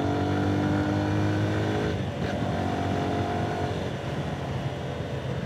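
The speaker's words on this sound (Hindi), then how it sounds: "मैं आपको यहाँ टर्न करके दिखाता हूँ मोटरसाइकिल ना, थर्ड गियर पे, सेकंड गियर पे।" A Lifan KPT 200 4V motorcycle's engine drones loud and close while it is ridden on a test ride. The steady hum dips briefly, as if through a gear change or a turn, and then carries on with no speech.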